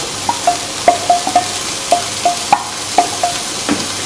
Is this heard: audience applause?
no